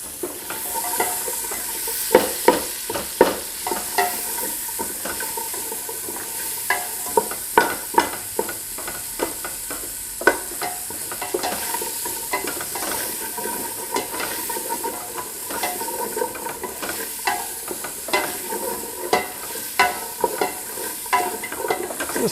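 Ingredients sautéing in a pan while pumpkin and coconut kitchari is cooked, a steady sizzle and hiss broken by frequent sharp clinks and scrapes of stirring.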